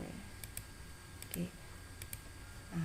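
Fingers tap a few keys on a computer keyboard while typing in Microsoft Word, giving sparse, faint clicks in small clusters over low room noise.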